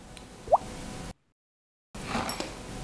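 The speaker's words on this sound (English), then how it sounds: "Give it a little rinse too." Tea vessels are rinsed with water while being warmed before a black tea tasting. A single close plop is followed later by a soft, hissing wash of water, with a short silent gap between them.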